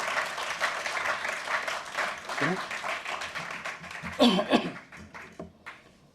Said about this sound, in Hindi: तालियों में इतनी कंजूसी मत कीजिए यार